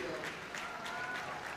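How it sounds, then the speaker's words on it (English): A crowd at Crufts applauds and cheers for a standard poodle in the Utility Group judging, a faint, distant patter of clapping that holds steady through the short moment. "A real cheer for this one"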